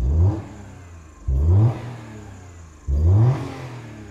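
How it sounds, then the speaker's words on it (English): Three-cylinder car engine, with a Daewoo Matiz and Reliant Fox nearby, revs hard three times in a row, each sharp climbing burst settling back to a steady idle, close and loud with no talking. "Oh, three cylinder goodness."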